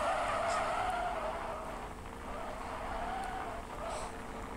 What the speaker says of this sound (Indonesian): Pakai mobil Porsche ini.